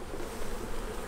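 Honey bees buzz at a beehive at an apiary, a dense, close, continuous hum of many insects that holds steady through the short moment with no voices.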